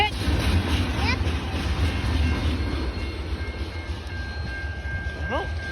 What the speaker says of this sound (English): Oh, they go bye-bye way, train.